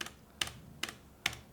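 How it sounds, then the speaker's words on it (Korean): A foldable portable mechanical keyboard being typed on, three crisp, evenly spaced keystroke clicks with faint spring ping, close and clear with no talking. "키감은 아주 우수하고 좋긴 한데 이런거"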